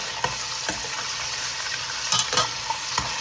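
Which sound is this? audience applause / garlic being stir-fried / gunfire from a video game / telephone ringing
garlic being stir-fried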